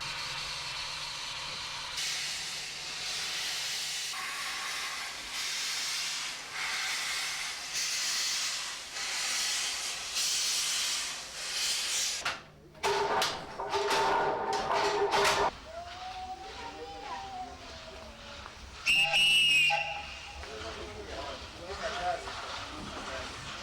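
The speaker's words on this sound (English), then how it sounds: "The train entered the station yard to await the right-of-way for the final 100 kilometres to Mombasa." Steam locomotive of a train bound for Mombasa hissing loudly as it rolls into a station yard, with bursts of venting steam, a short whistle and a sustained rail hiss throughout.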